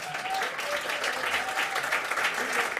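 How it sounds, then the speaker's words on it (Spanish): Audience applause fills a jazz concert hall after a Cuban musician is introduced, a dense and steady wash of clapping from the crowd with faint voices underneath. "Así que un aplauso."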